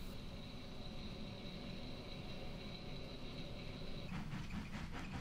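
A TT gauge model passenger train pulling out on a model railway layout, a faint continuous rolling rumble and whir that turns into light rhythmic clicking over rail joints near the end, with no voices.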